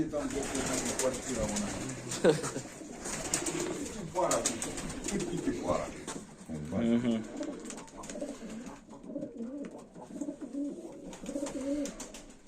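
Broad-tailed fighting pigeons coo in soft repeated phrases near the listener, mixed with people talking throughout and some background clatter.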